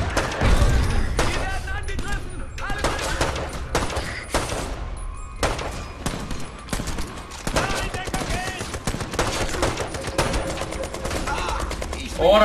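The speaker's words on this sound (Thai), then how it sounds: "โอ้ยโดนยิงเยอะจังนะครับ" Heavy gunfire in the World War II shooter Brothers in Arms 3, with dense bursts of automatic and rifle shots rattling almost nonstop, loud and close, while voices call out over the fighting.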